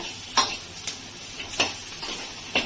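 A spoon or spatula stirs soaked chana dal in a pan for a home-style pulao, with a few distinct scraping clinks at irregular intervals over a quiet background and no voices.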